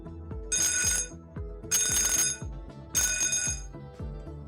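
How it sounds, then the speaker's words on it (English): Intermittent emergency alarm at a Malaysian Armed Forces symposium venue: three loud bursts of bright ringing tone, spaced about a second apart, over a rhythmic repeating background pattern. "The first alarm will be an intermittent alarm sound with no announcement."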